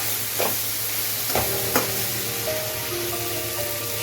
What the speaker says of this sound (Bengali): সবজিগুলো ভাজা হয়ে গিয়েছে